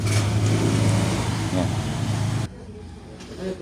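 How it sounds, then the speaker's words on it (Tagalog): Kawasaki Barako 175 motorcycle engine idling steadily after a new chain tensioner was fitted, a loud, close, even mechanical hum that suddenly drops to a quieter level partway through. "para marinig natin ulit kung maingay pa ba yung makina, may kalampag pa o wala na"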